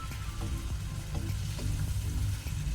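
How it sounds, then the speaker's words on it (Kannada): A mango and sardine roast sizzles steadily in an open pan over a high flame, with the liquid cooking off in a dense, continuous crackle and a few soft stirring knocks. "ಈಗ ನಾನು ಫ್ಲೇಮ್ ಹೈಯಲ್ಲೇ ಇಟ್ಕೊಂಡು ಅದರ ಲಿಡ್ ತೆಗೆದು ನೀರನ್ನು ಡ್ರೈ ಆಗಲಿಕ್ಕೆ ಬಿಡ್ತೇನೆ, ರೋಸ್ಟ್ ಆಗಲಿ"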